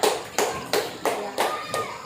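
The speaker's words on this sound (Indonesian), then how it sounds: "Baik, silakan tepuk tangan teman-temannya." Classmates clap in unison in a classroom, six sharp evenly spaced claps, near and loud with no voices over them.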